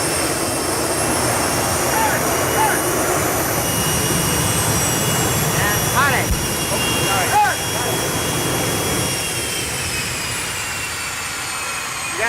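A jet engine used as a film-set wind machine roars steadily nearby, a loud continuous rush of kerosene-fueled exhaust, while people speak over it.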